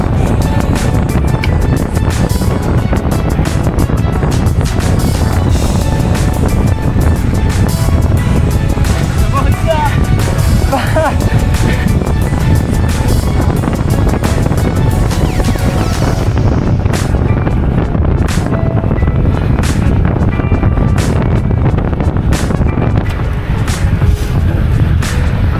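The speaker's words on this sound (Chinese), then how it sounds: "好大风啊，这里" Strong headwind buffeting the microphone during a road bike group ride, a loud continuous low roar with gusty rumble filling the whole stretch, easing slightly near the end, with riders talking over it.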